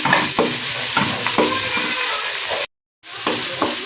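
Garlic-ginger paste sizzles loudly in a hot pan while a spoon stirs it in repeated scraping strokes, with the frying cutting out briefly to silence before resuming.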